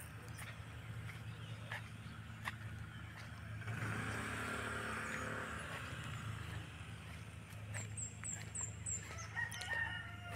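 Chickens in Pasil, Santander cluck, and a rooster crows partway through, with a passing car and outdoor background noise.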